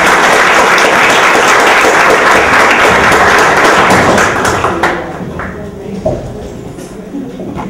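A conference audience applauds to welcome a speaker, dense clapping that fills the room for about five seconds before thinning out to scattered claps and light knocks.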